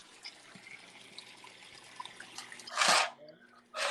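A washing machine fills with water for its rinse cycle: a faint steady trickle and hiss, then two sudden loud gushes of inflowing water near the end.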